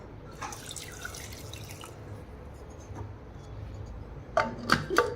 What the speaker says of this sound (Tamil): இப்போது ஒரு கிளாஸ் அளவு தண்ணி ஊற்றிக்கலாம்